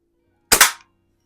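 A single sharp crack from an 1892 Markham King BB gun, a brief double-peaked snap that decays quickly in an otherwise quiet room.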